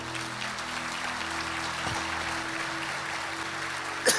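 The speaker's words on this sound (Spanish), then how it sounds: "Dale un aplauso al Señor." Church congregation applauding during a worship service, a steady wash of clapping from many hands held at an even level over sustained low musical tones, with no clear talk.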